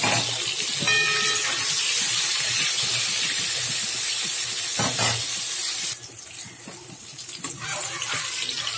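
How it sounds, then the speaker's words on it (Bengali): Eggplant (brinjal) slices frying in hot oil for shukto give off a dense, steady sizzle and hiss that fills the whole stretch, easing to a softer crackle for the last few seconds. "এই তেলেতেই আমি বেগুন ভেজে নিচ্ছি। বেগুনটাও হালকা করে ভেজে নেব।"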